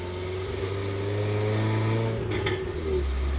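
A car drives along Highway 276 through Pisgah National Forest in December, a steady engine and road hum heard from inside the cabin with a brief click partway through.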